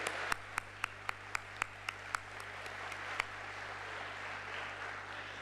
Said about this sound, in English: please a big round of applause for yourselves